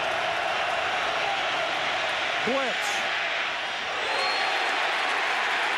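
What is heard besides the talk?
stadium crowd roaring at football game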